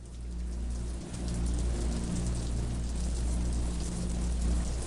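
Acid rain pours steadily in a video game, a dense continuous hiss of falling rain with no voices.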